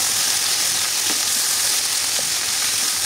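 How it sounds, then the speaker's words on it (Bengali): Chicken pieces fry in oil in a pan for chicken bhuna, giving a steady, loud, close hiss and sizzle with faint crackles and no pauses. "এভাবেই আমি একটু ভেজে নিচ্ছি।"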